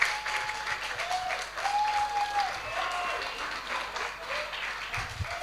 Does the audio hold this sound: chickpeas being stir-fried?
no